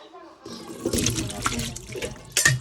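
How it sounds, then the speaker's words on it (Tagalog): Water pours and splashes steadily as a pot of cooked macaroni is drained into a sink, with a short louder gush near the end. "Alis na natin yung tubig."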